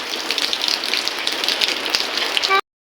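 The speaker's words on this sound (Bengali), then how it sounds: "আবার জোরে বৃষ্টি আসলো" Heavy rain pours steadily in a rural setting, a loud, dense hiss close by that continues unbroken before cutting off abruptly near the end.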